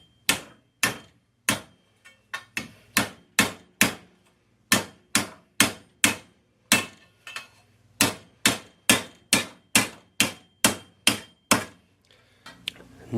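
Repeated sharp metallic framing hammer blows on cold copper, struck in a steady rhythm with brief pauses, loud and close, with no talking.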